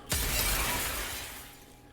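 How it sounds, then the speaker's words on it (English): Window glass shatters in a single loud crash in the video game Nikke, the sharp burst fading into a long scatter of falling shards over about two seconds, with no voices. "Someone answers her call by smashing a window."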